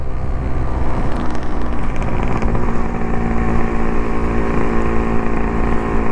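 Yamaha motorcycle engine running steadily at the start of an Independence Day group ride near Hosakote, a continuous loud low drone with no speech.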